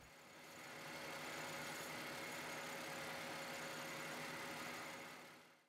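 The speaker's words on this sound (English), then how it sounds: "With the car running and no longer on jack stands, check the transmission fluid level." A car engine idles steadily, a low even rumble that fades in, holds constant at moderate volume, then tails off at the end, with no voices.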